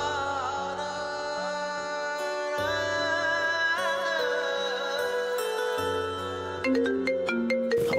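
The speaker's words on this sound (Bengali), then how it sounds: "আবার কে ফোন করে এখন?" A phone ringtone plays a bright, repeating electronic melody with sustained tones, loud and close, alone without any voices for its full length.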